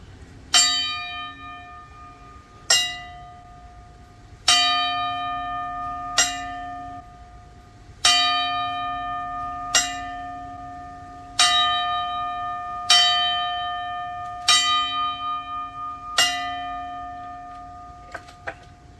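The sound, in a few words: ten bell salute, church bell tolling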